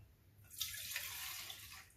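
Isopropyl alcohol is poured into a container, about two cups, as a steady liquid splash and gurgle that starts after a brief quiet moment and continues to the end.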